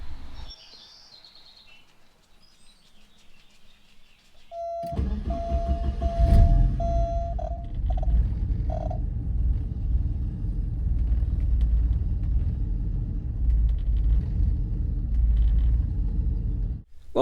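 A Porsche 944 Turbo engine cranks and starts, then settles into a loud, low, steady rumbling idle that sounds rough, close by. Faint birdsong is heard before it fires.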